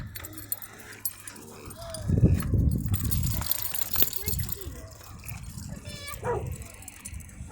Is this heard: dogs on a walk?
yes